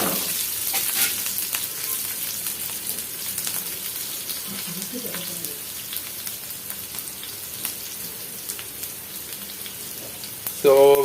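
Tomato masala curry with cauliflower and potato is stirred as it fries in a pan. A steady, close sizzle crackles throughout, with brief stirring scrapes and a louder clatter right at the end.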